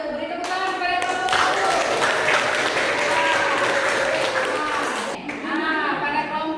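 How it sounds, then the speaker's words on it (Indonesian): Group of schoolchildren clapping in a classroom to reward an active discussion group, steady applause filling most of the clip with children's voices chattering over it and an adult speaking near the end. "Kita berikan penghargaan kepada kelompok yang aktif. Kita berikan kepada kelompok 1. Beri tepuk tangan kepada kelompok"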